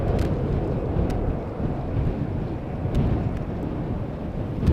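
Steady wind at Schiphol Airport rushes and buffets a microphone for the whole stretch, a dense low roar with faint scattered ticks above it and no voices.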